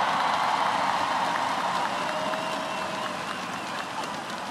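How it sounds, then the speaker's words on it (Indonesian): An audience applauds steadily at Istora, an Indonesian sports arena, for badminton players, a dense wash of clapping that slowly tapers off slightly toward the end. "tepuk tangan untuk Icuk Sugiarto dan Gracia Poli"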